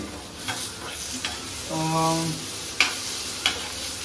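Tomatoes and masala fry in a pan with a steady close sizzle and occasional stirring scrapes. A short voiced sound briefly rises over the frying midway.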